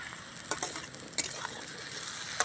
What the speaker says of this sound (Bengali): এবার আমি কেটে রাখা ঢ্যাঁড়সগুলো দিয়ে দিচ্ছি